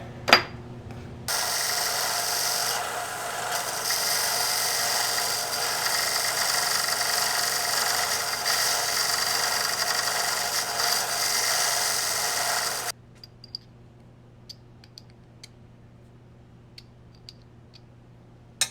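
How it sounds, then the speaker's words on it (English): A power sander working on a monitor part, a loud steady buzzing whine for about twelve seconds, then stopping to near quiet with a few faint clicks. "That's got to be sanded down a little bit."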